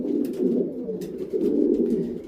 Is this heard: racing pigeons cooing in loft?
yes